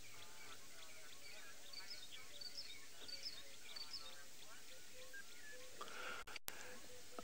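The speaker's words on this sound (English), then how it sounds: "There's an interesting bird that I can hear now." Faint chirping bird calls repeat in short bursts over a quiet outdoor background during a safari live stream, with a voice speaking softly at the same time.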